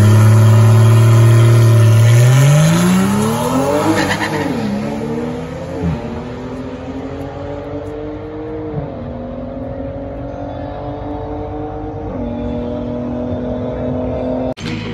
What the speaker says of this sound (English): this time I launched in first gear